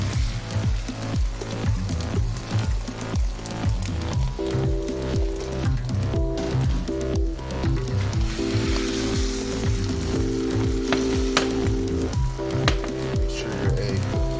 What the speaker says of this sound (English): Okay, into a frying pan.